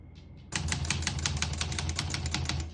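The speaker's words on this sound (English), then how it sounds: "As you can see, all the keys type nice and none of them skip or stick." Rapid, even keystrokes from a 1966 Olivetti Lettera 32 portable typewriter, about a dozen crisp clacks in steady rhythm at close range, preceded by a brief quiet moment with a faint tap.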